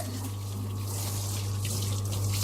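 A tap runs steadily into a bath while a dog is washed, a constant close rush of water under a low steady hum.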